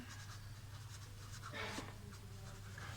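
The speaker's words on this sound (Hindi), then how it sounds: "अब मैं इसका आंसर लिखने लगी हूँ।" A pen scratches out an answer by hand on paper, producing soft, faint scraping strokes over a steady low background hum.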